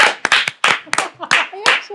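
Studio audience on a talk-show set clapping in short bursts of several sharp hand claps, close and lively, interleaved with voices talking over and between them.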